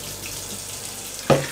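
Hot tap water running steadily from a faucet, a soft continuous hiss, ended by a brief louder thud or clunk.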